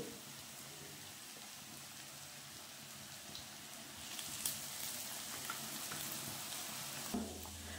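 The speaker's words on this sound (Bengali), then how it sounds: "বন্ধুরা, এবারে এক এক করে ভাজতে দিয়ে দিলাম।" Cauliflower kebabs frying in hot oil make a continuous dense hiss that grows louder midway, with faint crackles and no voices.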